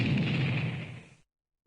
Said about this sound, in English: But then, an explosion occurred.